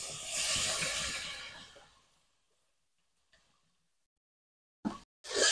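Water hits a hot pan of snail curry and sizzles loudly for about two seconds before fading to near silence, followed by a couple of brief clatters near the end.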